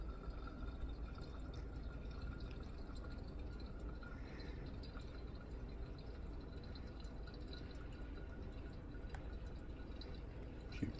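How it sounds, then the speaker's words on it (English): Hot water pours over coffee grounds in a pour-over brewer, a faint, steady trickle and drip running evenly under a soft background hiss throughout. "Keep pouring."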